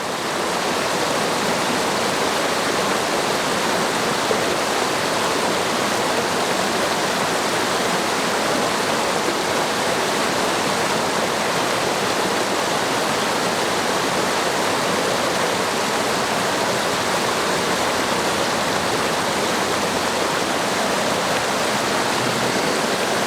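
Continuous loud rush of water flowing from a portable reverse osmosis purifier, steady and unbroken like a strong stream pouring out, close up with no voices.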